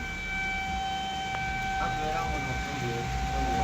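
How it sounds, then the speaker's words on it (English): Tornado sirens wail across Harlan County, a steady sustained tone with faint rising harmonics, somewhat distant and moderately quiet beneath low outdoor rumble. "Tornado sirens going off live on Crack 40 TV."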